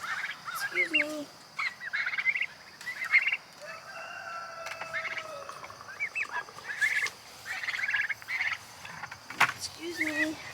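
A flock of growing young turkeys chirps and trills in scattered bursts, with low croaking notes now and then, nearby over a faint steady hum.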